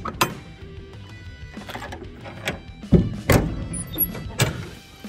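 Door of an aluminum-frame trailer being opened, giving a few sharp metallic clicks and clunks over steady background rumble, close by and moderately loud, with no talking.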